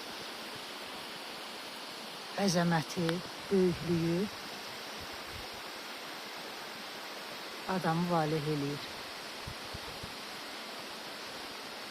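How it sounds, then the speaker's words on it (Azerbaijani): Laza waterfall in Qusar, falling among steep cliffs, gives a steady even rush of water that runs the whole time, with someone talking over it twice. "sıldırım qayaların arasında olan Laza şəlaləsi"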